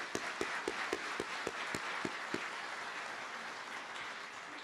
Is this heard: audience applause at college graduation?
yes